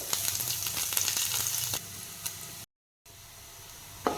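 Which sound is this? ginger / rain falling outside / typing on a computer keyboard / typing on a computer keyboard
ginger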